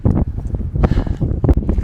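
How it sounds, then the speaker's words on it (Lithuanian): Strong wind at a desert wind farm gusts straight into a handheld microphone, making a loud, rough, buffeting rumble with bursts of flutter and no speech over it. "Ir tas vėjas, jis pučia tiesiog man tiesiai į veidą."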